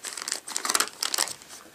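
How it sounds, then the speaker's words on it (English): A plastic bag crinkles and rustles in several quick, close bursts as scissors cut it open, lasting under two seconds with no talking. "And let's cut this bag open."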